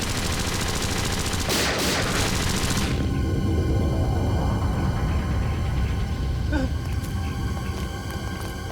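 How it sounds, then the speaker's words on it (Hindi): A missile launches from an island in a dramatic TV action scene, a loud roaring whoosh and rumble that fills the clip and tails off into a sustained low hum. "टापू से मिसाइल छोड़ी गई।"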